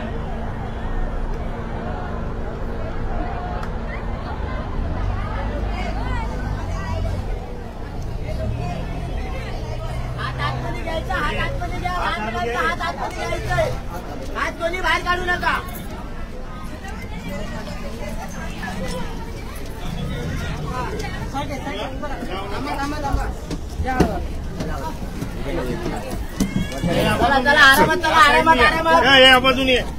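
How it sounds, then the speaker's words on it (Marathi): Dense crowd of devotees packed into the Mahadev temple at Talavpali in central Thane on Mahashivratri, a constant murmur of many voices with nearby people talking over it, growing louder and busier toward the end. "ठाण्यातील मध्यवर्ती परिसरात असलेल्या तलावपाली येथील महादेव मंदिरामध्ये मोठ्या प्रमाणात आहे जी नागरिकांची भाविकांची गर्दी आपल्याला पाहायला मिळत आहे।"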